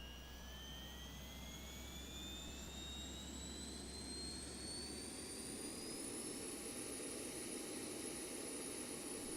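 A jet engine starting in a flight simulator game, X-Plane 12, a steady roar with high whining tones that climb gradually in pitch, continuous and even throughout with no talking.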